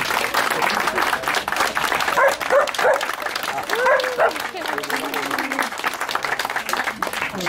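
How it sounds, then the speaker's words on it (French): A village crowd applauds the bakery team at a traditional bread-oven event, steady clapping throughout with a dog yipping and whimpering nearby and voices talking underneath. "applaudissements"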